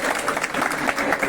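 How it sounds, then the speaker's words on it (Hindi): Children at a martyrs' day school event applaud, a dense burst of steady clapping from a crowd, loud and close throughout. "कोई भी बच्चा ऐसा ना हो जो चहक के लिए तालियां ना बजाए, कोई भी।"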